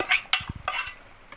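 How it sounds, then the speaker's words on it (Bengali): A utensil scrapes and knocks against a pot while spices and potato are mixed into khichuri of rice and lentils, with short clattering strokes and soft thuds in a quiet kitchen. "খুব ভালো করে মিশিয়ে দেব।"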